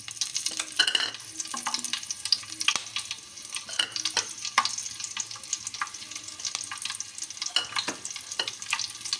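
Green chili pieces crackle and spit in hot oil for a brinjal curry, with frequent sharp pops and scraping stirs over a continuous frying hiss.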